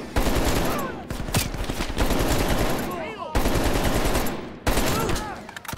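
Loud automatic gunfire in Call of Duty Black Ops Cold War, rapid repeated bursts with short gaps between them and clattering echoes throughout.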